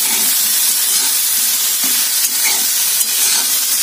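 Okra cooking with mango in a frying pan, a steady loud sizzle and hiss with intermittent scraping stirs throughout, no voices.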